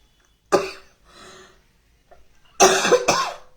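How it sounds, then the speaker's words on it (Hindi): A person coughs several times up close: one sharp cough, a softer raspy breath, then a harsh double cough near the end. "मेरे को तो बड़ी खांसी हो रही है"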